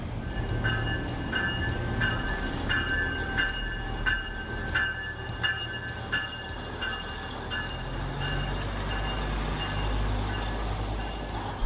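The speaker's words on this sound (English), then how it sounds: "There you can see the train approaching" A UP Express train approaching a station in Toronto rumbles steadily past at close range, with low mechanical drone and a regular series of sharp rhythmic clicks from the wheels.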